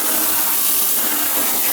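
A garden hose sprays a John Deere 430 lawn tractor during a rinse, giving a steady, loud hiss of water spray with no pauses.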